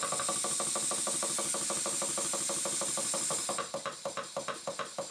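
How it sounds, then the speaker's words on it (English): A restored Southworth 12 inch steam pump runs with a steady, rapid knocking beat under a continuous loud hiss of steam, the hiss dropping away near the end to leave sharper, evenly spaced clanks. "I went outside and left the pump running"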